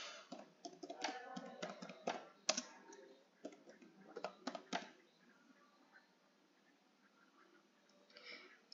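Rapid clicking keystrokes on a computer keyboard, close and fairly quiet, coming in dense bursts that thin out into sparse taps and near silence before a final short flurry.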